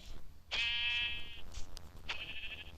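Two Minecraft sheep bleats ring out close and clear, a long one followed by a shorter one, over a faint background hum.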